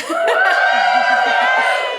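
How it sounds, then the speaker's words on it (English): A live podcast audience cheers and whoops in an indoor event space, a loud burst of mixed voices and shouts lasting a couple of seconds before fading. "can you guys all give us a cheer, please?"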